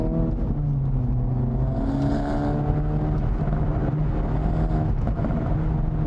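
A 2024 Acura Integra Type S engine pulls hard under acceleration, a loud close-up drone whose pitch climbs steadily with a brief shift, heard from inside the car without any talk.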